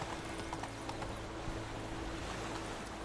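Horse hooves clip-clopping at a steady pace in The Witcher 3, a dense, continuous beat over a low hum of wind and ambient noise, no voices.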